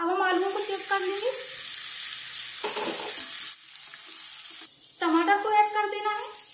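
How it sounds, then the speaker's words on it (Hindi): Potatoes frying and being stirred in a pan for aloo shimla mirch, with sizzling and scraping strokes up close, a short lull in the middle, then more stirring. "अब गैस का फ्लेम लो कर देंगे और इनको 5 मिनट तक ऐसे ही फ्राई करेंगे।"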